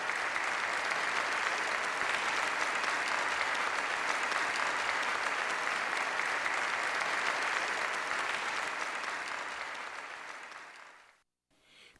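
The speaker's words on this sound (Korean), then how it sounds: "전체 참가자들은 열광적인 박수로 환영했습니다." Sustained, enthusiastic applause from a large crowd in a banquet hall welcoming arriving leaders, steady and dense for about ten seconds before cutting off abruptly into silence.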